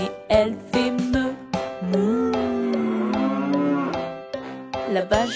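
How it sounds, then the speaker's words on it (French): A farm cow lets out one long, drawn-out moo with a steady, rich tone, framed by a few brief sharper sounds before and after. "La vache Lola a des cornes et elle fait meuh."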